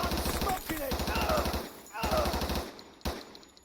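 Rifle fire from a Door Kickers 2 firefight comes as rapid, close automatic bursts of evenly spaced shots, two long strings and a lone final crack, with short pauses between.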